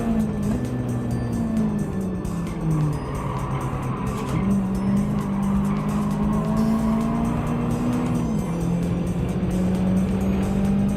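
Mazda Miata race car in Gran Turismo 7 on a rain-soaked Dragon Trail Gardens circuit: a steady, buzzing engine note rising and falling through gear changes, continuous and close, with faint tire noise underneath.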